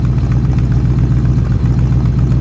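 1950 Ford Custom Deluxe Club Coupe flathead engine idling, a loud, steady, low burbling rumble with an even pulsing beat, heard close with no talk over it.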